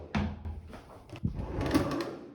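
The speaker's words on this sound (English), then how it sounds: "And these drawers actually are functional." A functional drawer in a hotel bathroom at the Waldorf Astoria Orlando slides open with a short wooden scrape and knock, followed by faint handling noises in a quiet room.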